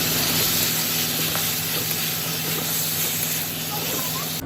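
Onion fries in mustard oil with a loud, steady hissing sizzle that stays constant throughout, with a low hum underneath.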